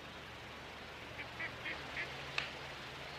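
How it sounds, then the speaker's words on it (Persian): Ducks on a pond beside a lumber yard give a few faint, short quacks over steady outdoor background hiss. "این طرف دست چپ یه برکه آب پر از مرغابی."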